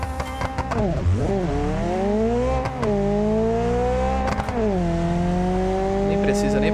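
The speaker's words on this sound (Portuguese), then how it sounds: "Já vou ligar o nitro aqui já, mano" A turbo Beetle in the BeamNG racing game howls as its engine note climbs and dips through nitro-boosted acceleration, a loud steady whine with rising harmonics, with someone talking over it.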